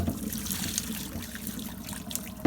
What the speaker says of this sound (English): Here's all of this old scum and shit I'm pouring off.